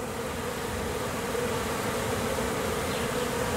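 Honey bees buzz densely around a backyard hive just after swarming, a steady, continuous drone of many insects close by, with no talk over it.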